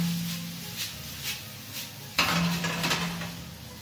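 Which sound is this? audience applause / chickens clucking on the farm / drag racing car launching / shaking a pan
shaking a pan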